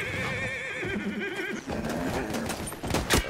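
A horse in a video game neighs loudly in a long wavering whinny, followed by clip-clopping hooves and other game noise.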